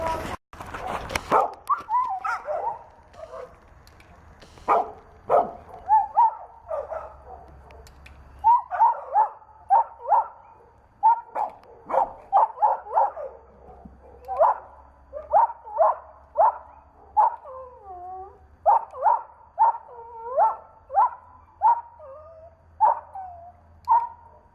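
A dog at a gate during training barks in repeated sharp bursts, mixed with high whimpers and yips, close and fairly loud, with short pauses between clusters and a low background hum.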